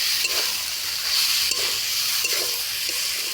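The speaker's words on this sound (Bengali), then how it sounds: "সাবুগুলো দিয়ে আমি ভালো করে নেড়ে চেড়ে মিশিয়ে নিচ্ছি।" Soaked sago is stirred into vegetable khichdi in a pan, a steady sizzle with soft scraping strokes of the spoon recurring about every second.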